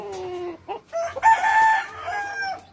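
A rooster crows once, close and loud, with a few short clucks and bird calls just before the long drawn-out call, in a Filipino gamefowl yard.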